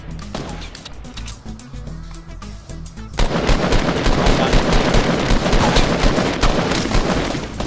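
Dense automatic gunfire rattles in the Fortnite video game, with rapid overlapping shots that grow louder and more continuous after a quieter opening stretch of scattered shots. The shots are close and loud throughout.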